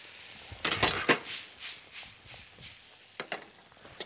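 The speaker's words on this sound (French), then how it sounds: "Et on va les déglacer avec un peu d'alcool de pomme" Seared apples in a pan deglazed with apple brandy, giving a few short hissing bursts mixed with clinks of utensils against the pan, close and fairly quiet.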